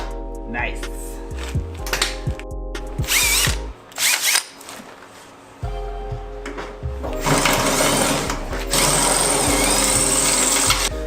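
A power drill with a bent, dull bit whirs in repeated bursts, revving and stopping, then grinds steadily into metal drilling out a bent screw in a car engine bay, loud and close with some handling noise between runs.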